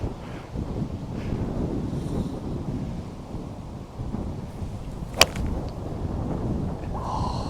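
Strong wind buffets the microphone on a golf course, a steady low roar with gusty surges throughout, broken by one sharp brief crack partway through.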